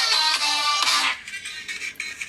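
A Xiaomi Redmi S2 phone speaker plays at full volume, giving a bright, tinny burst of ringtone-like music that fades into quieter, thinner sounds toward the end, with no talk.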